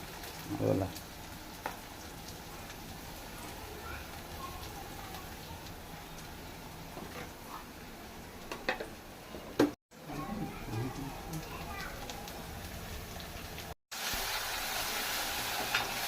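Onion and ginger sizzling in a pan for a cabbage curry, a continuous hissing crackle running underneath people talking, with a couple of brief dropouts.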